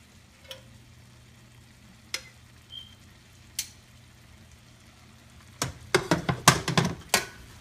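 Blackened shrimp cook in a pan on medium heat, giving a quiet sizzle broken by a few sharp ticks, then a busy cluster of crackling pops and spatters near the end.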